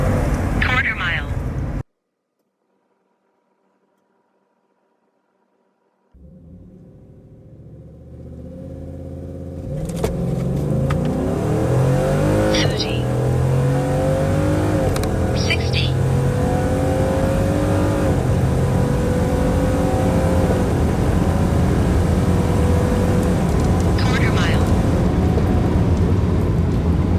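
A stock Ford F-150 pickup with the 5.0 Coyote V8 and custom tuning launches on a quarter-mile run, engine roaring loud and close as it climbs through several gear shifts after a brief silent gap, with a voice briefly heard.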